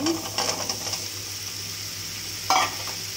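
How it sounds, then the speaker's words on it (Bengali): Sweet pumpkin is stir-fried with spices and prawns in a pan, making a steady sizzle with brief bursts of stirring and scraping. "মিষ্টি কুমড়ো দিয়ে একটু মশলাটার সাথে কষিয়ে নিব।"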